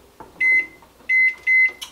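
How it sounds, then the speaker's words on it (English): A kitchen microwave oven gives three short, clear electronic beeps in quick succession, with faint low background hum between them. "We're gonna heat it in the microwave."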